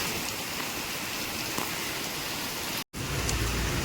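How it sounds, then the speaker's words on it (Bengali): Steady rain falls at a Durga Puja pandal in North Kolkata, a dense even hiss with no pauses except one abrupt split-second dropout near the end. "এই যে বৃষ্টি তো কমবার নাম নেই"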